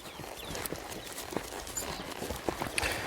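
Horse hooves clip-clop on the ground in Trinidad, Cuba, as a loose, irregular series of moderate clops at mid distance against outdoor background.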